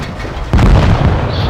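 A tank cannon fires in World of Tanks Blitz, one sudden loud close boom that breaks a quieter background and rings on with a rumbling tail.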